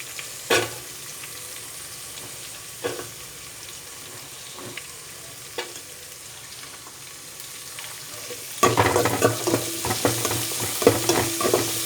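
Small shallots go into hot oil for radish sambar: a quiet stretch with a few clinks of a stirring spoon, then a loud, close sizzle bursts up and crackles steadily to the end.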